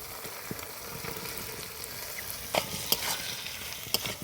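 Jackfruit, potato and green peas being stir-fried in a thick masala for a vegetarian curry: a steady soft sizzle with intermittent scraping strokes of a spatula, fairly quiet and close, with no voices.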